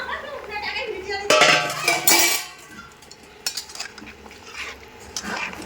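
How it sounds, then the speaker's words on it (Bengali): Singi fish and thinly sliced bitter gourd tipped into a pan for a fish curry with potatoes, then stirred: a loud clattering splash of pieces landing, followed by scraping spoon strokes against the pan. "এবার মাছ আর উচ্ছেগুলো দিয়ে দেবো।"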